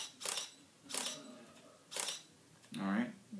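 A camera shutter fires three times about a second apart, crisp and close, triggered by a Yongnuo RF-603C wireless shutter release, followed by a softer mechanical whir.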